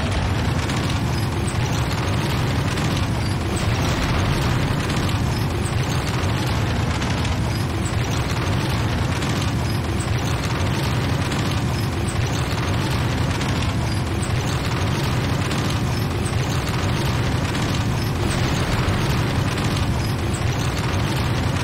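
Continuous heavy rumbling blasts and crackling destruction as the Hand of Nod building is blown apart in the video game Renegade, dense and loud throughout with no break.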